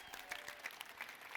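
Brief, faint applause from an audience at a product presentation, a light patter of clapping heard from a distance.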